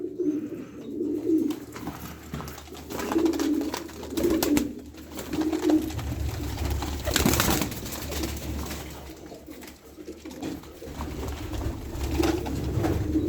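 Pigeons coo repeatedly in soft, low rolling calls, several birds close by, with occasional rustling and wing noise between.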